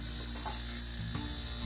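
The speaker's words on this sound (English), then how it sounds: "Power it on, and if it buzzes on," Air conditioner compressor salvaged as a vacuum pump, running with a steady mechanical buzz and hum, a faint click partway through, heard close with no talk.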